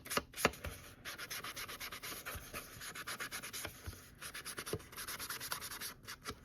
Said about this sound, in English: now we're going to ink it with some walnut